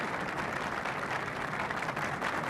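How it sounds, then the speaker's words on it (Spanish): Sustained applause from deputies and senators gathered on the front steps of the Palacio de las Cortes, a dense even roar of many hands heard from a distance without pauses. "recibe los aplausos de diputados y senadores que ocupan las escalinatas de la fachada principal del edificio del Palacio de las Cortes"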